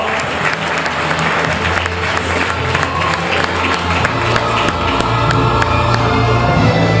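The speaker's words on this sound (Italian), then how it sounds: "ancora un applauso a questo bellissimo gruppo" Audience applause at a regional masters athletics awards ceremony in Veneto, steady dense clapping from a crowd filling the hall throughout, loud and continuous with no speech over it.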